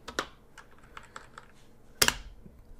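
Typing on a computer keyboard, sparse light clicks scattered close by, with one sharp louder clack near the end, in a quiet room without talk.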